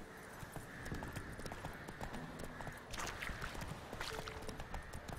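Rhythmic clip-clop of a horse's hooves at a steady galloping pace in the video game The Witcher 3, with a brief whinny-like sound partway through.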